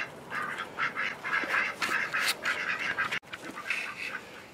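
Ducks playing in cold mud give a near, busy run of repeated quacks, overlapping and nearly continuous, with a short pause after about three seconds before the quacking picks up again.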